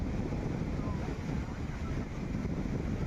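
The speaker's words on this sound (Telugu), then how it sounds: "సో అలలు అయితే ఇలా వస్తున్నాయి చూడండి." Sea waves wash in at R.K. Beach in Vizag as a steady, low surf roar, heavily buffeted by wind noise on the microphone.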